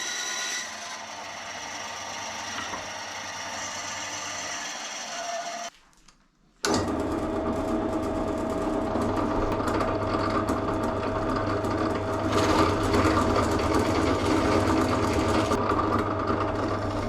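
A bandsaw cuts wood for a DIY fret press caul, its steady motor hum and blade whine running continuously, with a short pause midway before the cut resumes.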